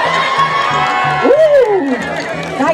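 Spectators at a family festival crowd cheer and shout for toddlers racing, a steady mix of whoops and children's voices with a rising and falling shout in the middle, while a rhythmic low thumping runs underneath.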